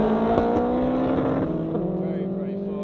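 Cars drive past on a road, loud and close. Engine tones hold steady and then fall away as the vehicles pass one after another.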